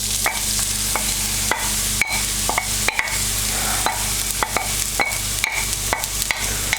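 Chopped onion frying in hot oil in a pan for St Helena corned beef hash, a steady loud sizzle broken by repeated sharp scrapes of stirring, with no talking.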